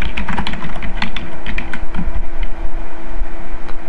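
Fingers tap out a password on a computer keyboard in a rapid, uneven run of close clicks over a steady fan hum, with no voices.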